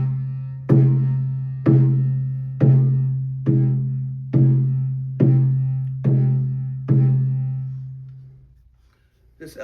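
A scalloped elk-hide spirit drum struck eight times at an even, unhurried pace. Each hit gives a deep, resonant boom that rings out and decays before the next, close and loud, with no talking.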